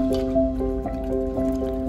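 Liquid poured slowly into a pot of beef nihari, a steady close trickle and dribble with faint repeated splashes running throughout, no voices.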